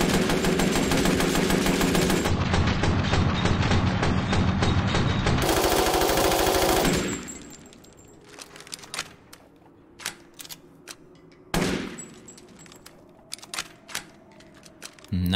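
An automatic rifle fitted with a red dot sight and foregrip fires in Resident Evil Village, a dense, loud burst of rapid shots for about seven seconds, followed by a quieter stretch with scattered clicks and a few sharp, isolated reports.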